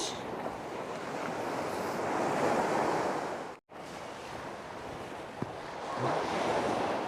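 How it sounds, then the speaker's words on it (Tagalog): Ocean surf washing onto a beach on a morning summer outing, a steady broad roar of breaking waves with wind buffeting the microphone, a brief drop-out midway, no talking. "Tabing dagat tayo, guys."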